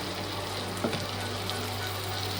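Ginger and garlic paste fries in a pan, giving a steady, close sizzle with a soft scrape partway through; no one speaks.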